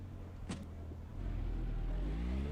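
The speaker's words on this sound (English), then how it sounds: "And the car was already running." A USF2000 open-wheel race car's engine runs in the iRacing simulator at Charlotte, a low steady hum that grows louder and fuller partway through, with a brief high squeak near the start.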